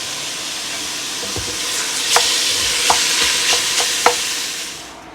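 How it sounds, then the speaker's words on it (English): Ground beef sizzles loudly in a pan for a bolognese sauce while a utensil breaks it up. The hiss is steady and close, with a few sharp scrapes and taps of the utensil against the pan. "I'm just going to cook the ground beef, breaking it up"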